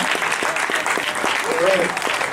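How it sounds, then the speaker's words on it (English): Audience applause at a CNM event honoring people who stood up after in-person interviews, a steady dense patter of many hands clapping nearby, with a brief vocal sound partway through. "we can give you a round of applause"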